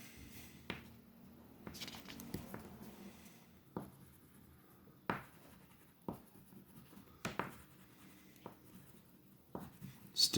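A pink crayon scratching and scribbling on paper while drawing spring trees, soft close strokes broken by sharper taps roughly every second or two.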